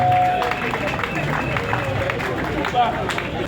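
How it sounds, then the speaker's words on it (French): Audience applause and crowd noise at a school year-closing ceremony with choir, theatre and poems, a steady wash of clapping and murmuring for a mother being honoured, loud and continuous throughout. "Applaudissons quand même pour la maman"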